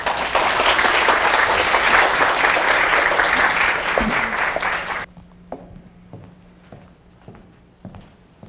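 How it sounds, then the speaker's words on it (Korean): An audience claps loudly to welcome two judges on stage at a court concert event, the applause stopping abruptly after about five seconds, followed by a few footsteps and light shuffling in a quieter hall. "그럼 두 분 큰 박수로 맞아보겠습니다"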